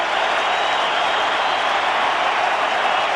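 Fans at the Twins' ballpark during a 2003 playoff game against the Yankees keep up a thick, constant roar of cheering and applause, loud and even throughout with no break.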